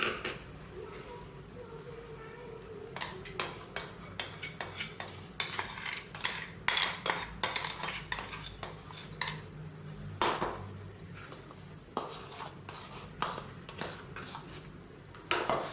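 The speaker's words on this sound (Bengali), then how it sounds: "এবার ভালো করে ডিমটা আলু সব একসাথে মিক্স করে নেব" A utensil scraping and clattering in a pan while egg and potato are mixed together for a fried egg-and-potato dish, with irregular metallic knocks and scrapes that come steadily after a quiet start.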